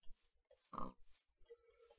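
Pigs in Minecraft oink in a few short, soft grunts, one louder snort-like call standing out among brief quieter ones.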